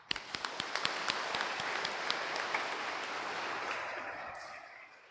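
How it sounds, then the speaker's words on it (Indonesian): A congregation at a Catholic First Communion Mass in church starts with a few sharp claps, then breaks into full applause that stays steady and then gradually fades. "sebagai tanda terima kasih, kita beri tepuk tangan."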